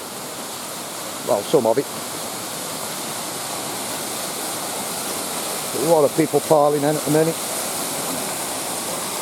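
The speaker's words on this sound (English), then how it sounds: "we'll follow this waterfall down." A waterfall in the UK gives off a steady, even rushing wash that runs the whole time, with people talking briefly over it twice.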